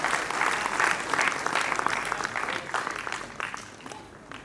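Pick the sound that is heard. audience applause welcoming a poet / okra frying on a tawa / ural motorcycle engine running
audience applause welcoming a poet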